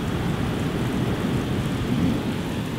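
Heavy rain pours down on a beach campsite at Pehpulo, a dense, continuous roar of drops with a low rumbling thunder bed underneath, loud and steady throughout without a sharp crack.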